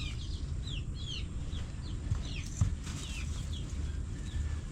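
Laying hens clucking in a coop, soft scattered calls and short squawks over a constant low background hum, fairly faint with no speech.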